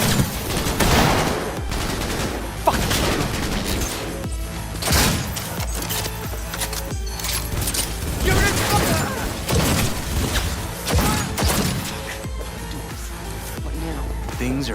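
Gunfire in a Cyberpunk 2077 cutscene shootout, rapid volleys of shots and machine-gun bursts crackling through a busy, loud mix of combat noise, with a voice speaking in places.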